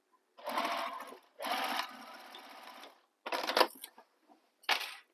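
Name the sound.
sewing machine sewing side seam of a bag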